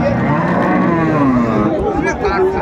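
Sahiwal-breed cows and calves at Ambari cattle market in Dinajpur low in a loud, drawn-out moo close by, with the bustle of the market beneath it.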